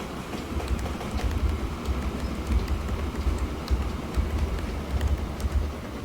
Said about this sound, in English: Please enjoy the sights and sounds of the railroad.